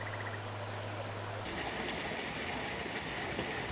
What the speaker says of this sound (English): With bird calls interrupting the smooth sounds of running water over granite rock